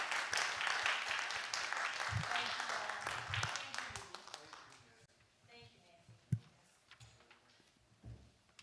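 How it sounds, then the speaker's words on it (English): Scattered clapping from a Rotary Club weekly meeting audience, moderate at first and thinning out midway, leaving a few sparse claps and taps in a quieter room. "please give them the biggest round of applause that you can"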